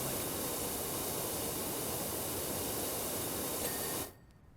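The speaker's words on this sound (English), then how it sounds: "As you're spraying, every surface gets wet when you're spraying it, and you get these like drips." Steady broadband spray of a pressure washer blasting tiled washroom surfaces in PowerWash Simulator, a continuous loud hiss that stops abruptly near the end, leaving near silence.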